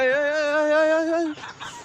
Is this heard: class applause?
no